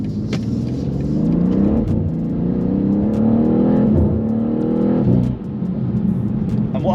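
A tuned BMW G87 M2 accelerates hard through the gears, its engine rumbling and rising in pitch with a shift break before the final pull, loud and close from inside the car.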